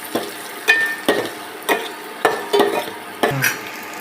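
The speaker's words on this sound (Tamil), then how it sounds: "வரமிளகா சேர்த்துக்கலாம் சேர்த்துட்டு நல்லா வதக்கிக்கலாம்" Dried red chillies being sautéed with onions and garlic in a pan, with a steady rhythm of spoon scrapes and stirring clatter, about eight strokes, over a faint background sizzle.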